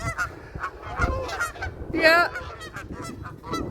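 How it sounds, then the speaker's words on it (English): Geese at a bird sanctuary in Calgary honk and squawk in a noisy, overlapping squabble, with harsh repeated calls rising and falling at mid distance and a loud burst near the middle, as a person briefly speaks. "I think they're having a fight. Look at them, screaming"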